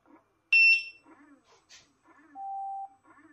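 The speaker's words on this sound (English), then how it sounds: "I hate this loud beep." A Gotway RS19 electric unicycle gives a loud, high electronic double beep at power-on, then a softer steady tone about two seconds later, with faint clicks and handling noise between.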